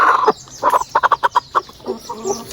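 A chicken in rural Kenya clucks loudly and close by, a rapid series of sharp rhythmic clucks followed by softer drawn-out murmuring calls.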